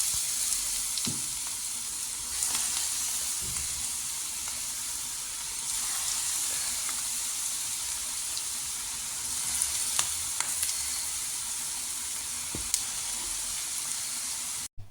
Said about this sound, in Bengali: এখন আমি একটা প্যানে তেল বসিয়ে দিলাম, আর তেলটা খুব ভালো করে যখন গরম হয়ে যাবে তখন আমি এক এক করে সবগুলো পাকোড়া এখানে দিয়ে দিব